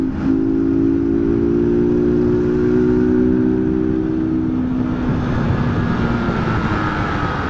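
New Honda CG Titan motorcycle engine running close up, a steady droning hum with a rising tone that shifts midway, constant and loud with no speech.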